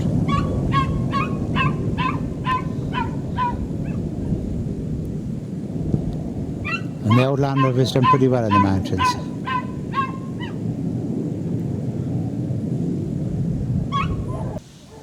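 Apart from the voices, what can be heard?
dogs barking in the car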